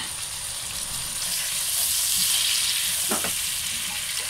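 Tomatoes go into a pan of spice masala with turmeric, keeping up a continuous bright sizzle and hiss, with a brief stirring scrape partway through.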